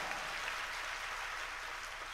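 Applause from an audience at a live public gathering, a continuous wash of many hands clapping, even and fairly distant, with no break and no voices on top.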